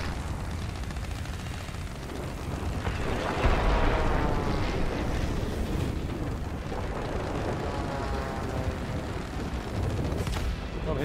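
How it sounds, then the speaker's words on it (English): A warplane blowing up in World of Warplanes, a sustained roaring rumble of engines and gunfire that swells into a heavier explosive burst partway through and keeps churning loudly to the end. "He just exploded."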